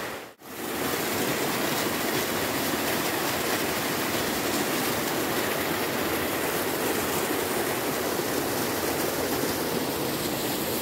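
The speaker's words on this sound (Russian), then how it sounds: "Вот, видите, водопад как падает." A waterfall pouring down beside a mountain trail at Berendeevo Tsarstvo near Lazarevskoye in winter, a loud, dense, unbroken roar of falling water heard up close after a brief cut at the start.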